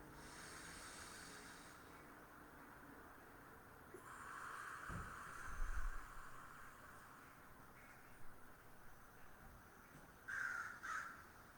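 Crows cawing outdoors, a few harsh calls standing out over steady faint background noise, with a closer burst near the end; no one speaks.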